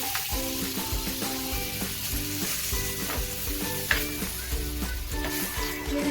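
Butter sizzles steadily in a hot frying pan for egg bread, a dense crackling hiss with rhythmic scraping taps of a utensil stirring and spreading it, close and continuous.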